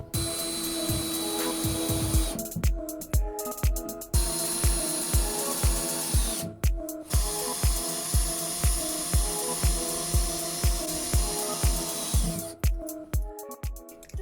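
Garden bench timber is driven into place with a power screwdriver, a loud close whirring grind broken by short regular bursts and a few pauses.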